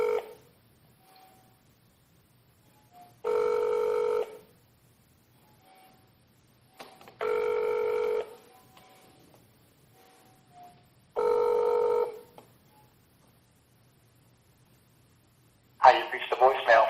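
Telephone ringback tones during a call transfer to a church pastor's line, three long ring bursts about a second each with quiet gaps between, clear and steady, followed by the start of a voicemail greeting.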